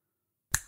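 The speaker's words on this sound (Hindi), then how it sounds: "बुलाओ जिंटू को, चुटकी बजाते ही आ जाएगा" A single crisp finger snap in a cartoon, summoning the genie Jintu, sounding close and alone after a moment of silence.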